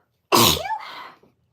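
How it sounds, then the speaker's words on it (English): A single loud, close sneeze bursts out sharply and trails off into a brief breathy tail, with no talking around it. "I'm going to sneeze."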